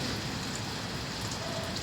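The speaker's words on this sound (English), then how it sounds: "I bathed in the rain" Steady rain falling and pattering on surfaces outdoors, an even close hiss of drops with no break and no voices.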